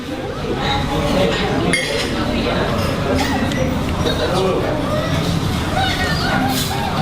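A spoon clinks against a bowl of Soto Betawi, a yellowish Indonesian soup with green onions, several light metallic taps among busy restaurant chatter and background clatter.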